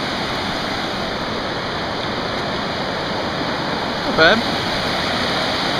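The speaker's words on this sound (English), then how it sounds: "Just a little bit of rapids." Muddy creek rapids rush in a continuous broadband wash of flowing water, loud and steady outdoors, with a brief voice speaking over it near the end.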